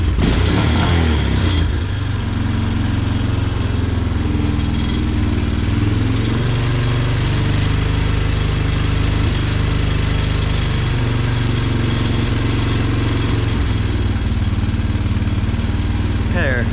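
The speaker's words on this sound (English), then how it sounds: "There, that seems like a pretty good idle." Small single-cylinder engine of a Honda Recon 200 ATV idling steadily after a carburetor cleaning, a loud, close, even putter that holds for the whole stretch with a speaking voice over it.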